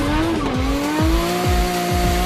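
Race cars from the Tokyo Drift film, engines revving loud and close with rising and dropping pitch through gear changes, tires squealing and skidding throughout.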